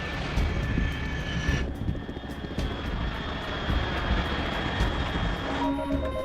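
An aircraft drones overhead in the stealth video game Metal Gear Solid 3, a steady engine roar at 30,000 feet altitude that is heard alone under faint game ambience, with a soft tonal shift partway through.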